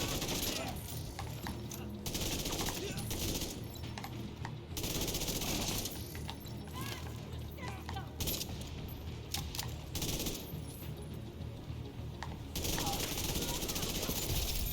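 Explosions and gunfire in a video game burst in dense, crackling volleys that rise and fall over steady background noise. The whole mix stays fairly quiet, with talk mixed in.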